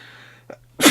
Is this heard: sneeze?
yes